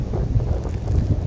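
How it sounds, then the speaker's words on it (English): Strong wind in an outdoor snowstorm roars steadily and loudly into the microphone as a continuous low buffeting rumble, with no voices over it. "It's freaking windy."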